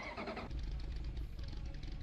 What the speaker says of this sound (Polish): nawet silnik odpalimy, zobaczymy